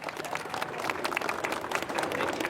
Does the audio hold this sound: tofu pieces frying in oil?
no